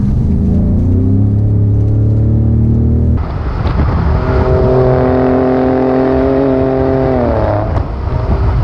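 A Ford F-150 Raptor pickup truck accelerating hard, its engine note climbing loud and close through the gears with a shift break partway before pulling up again.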